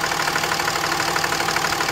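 A 2006 Cummins diesel engine idles steadily at low injection pressure during an injector test, a continuous, loud mechanical clatter with a dense even texture and no pauses.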